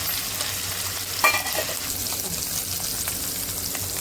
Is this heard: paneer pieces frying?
yes